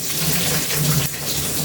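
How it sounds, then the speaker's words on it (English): Hot water from boiled broccoli is poured off into a sink, making a steady, loud, close rushing splash that runs continuously and dips slightly toward the end. "I'm going to throw off the water"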